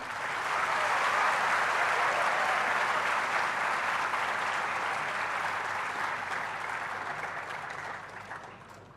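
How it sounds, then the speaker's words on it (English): A large hall of students at an induction program applauds, broad sustained clapping that swells quickly, holds steady for several seconds and tapers off at the end. "So a huge round of applause for all of these guys."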